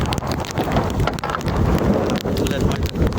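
Wind and rain sweeping over a lake, a loud, dense roar of gusts buffeting the microphone with steady rain hiss and sharp crackling bursts throughout.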